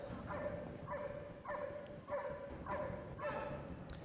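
Police dog giving a guard display at an indoor show arena, barking in a steady rhythm of about six evenly spaced barks, heard at some distance over crowd and hall noise.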